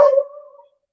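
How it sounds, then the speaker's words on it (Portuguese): Female dog giving a single short bark or yelp that rings out and trails away into silence, loud and near, with no other sound around it. "Essa é a minha cachorra brigando com os vizinhos."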